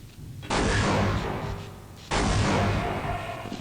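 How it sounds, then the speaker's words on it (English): Two heavy grenade blasts in Half-Life: Blue Shift, thrown into a room holding a bullsquid; each is a sudden loud roar with a long rumbling decay, about a second and a half apart, with no talking. "So, let's just use some grenades."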